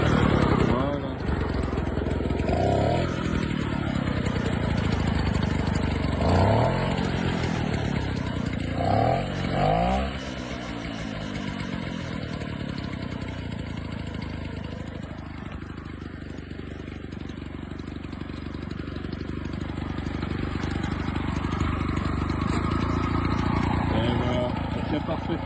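An old Motobécane AV76 moped engine running steadily near the listener, with a continuous buzzing idle that rises briefly in the first seconds, under occasional talking.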